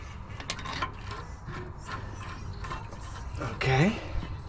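Brake rotor bolts are fitted by hand on the rear brakes of a 2012-2016 Ford F-450 cab chassis, giving close, soft metallic clicks and rubbing scrapes with a brief louder ratcheting burst near the end.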